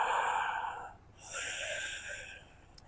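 Deep breathing during a yoga session by the sea: a long airy exhale, a short pause, then another slow breath, close and alone with no talk.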